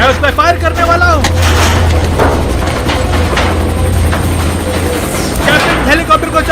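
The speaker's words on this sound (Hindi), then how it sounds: "मैं उस पर फायर करने वाला हूँ।" Gunfire in an action movie: heavy, booming shots and rumbling blasts fill the scene, with voices talking over the loud, dense barrage.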